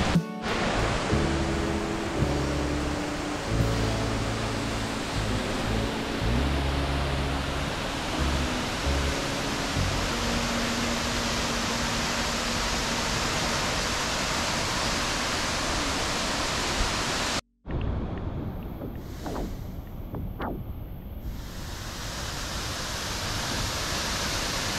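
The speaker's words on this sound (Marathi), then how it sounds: "तिथून खाली जाऊन धबधब्याच्या खाली जाणार आहे" A powerful waterfall roars in a continuous broadband rush, close and loud, with faint tonal sounds beneath early on and a brief dropout midway before the heavy water noise resumes.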